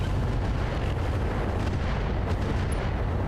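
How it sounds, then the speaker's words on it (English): Heavy mech weaponry unloading in the BattleTech RogueTech mod, a dense, continuous roar of overlapping blasts and booms, loud and close, with no gaps and no voices. "Firing everything I've got."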